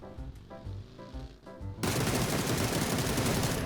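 Sustained rapid automatic gunfire erupts suddenly in PUBG near a BRDM armored vehicle, loud and continuous after a stretch of quieter game sound, with no talk over it.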